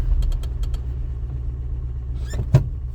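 A 1986 Subaru BRAT idles with a low, steady engine rumble while being shifted into low range, a few light clicks early and a single clunk near the end.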